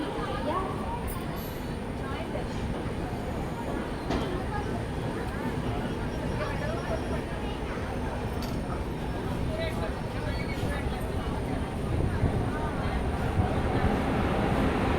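Onboard the 12706 Guntur Intercity Superfast Express just after leaving Secunderabad, a steady rumble and rattle of the moving train runs continuously at moderate level, with a voice talking over it.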